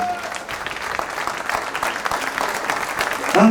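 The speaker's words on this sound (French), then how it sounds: "je vais déjà commencer d'abord à vous demander de tous vous applaudir" A crowd at a political meeting applauds steadily, many hands clapping in a dense, loud wash that swells near the end, with a voice briefly heard over it.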